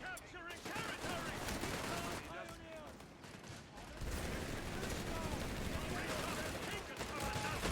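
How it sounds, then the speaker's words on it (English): Mortar rounds from a barrage in Company of Heroes 3 thump and crackle in dense, overlapping volleys, while other gunfire rattles in the background of the battle and a voice talks over it. "I got my mortar here, so I can start barraging that."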